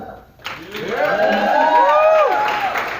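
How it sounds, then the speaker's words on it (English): A room full of people cheering and shouting in a round of applause for a colleague, with whoops and voices rising over sustained clapping for about three seconds after a brief quiet start. "So we're going to round of applause for him."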